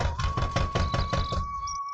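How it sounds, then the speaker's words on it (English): Loud, rapid knocking on the door of a poor farmer's small house early in the morning, roughly six sharp evenly spaced raps, then quiet. "Suddenly, there was a knock on the door."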